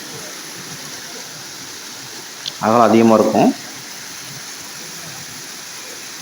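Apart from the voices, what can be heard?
waterfall pouring over rocks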